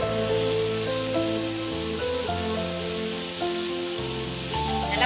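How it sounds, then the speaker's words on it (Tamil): Tomato with ginger and garlic sautés in a pan for a beetroot kootu, giving a steady, loud, close sizzle with a continuous frying hiss and no talk. "நல்லா வதக்கிக்கோங்க."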